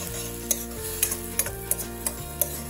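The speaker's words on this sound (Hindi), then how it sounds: "अब इस प्यूरी को भी हम प्याज के साथ अच्छे से मिक्स कर लेंगे।" A spoon stirs tomato puree into onions in a pan for kadhai paneer, scraping in regular strokes about every half second over a faint sizzle, with steady music underneath.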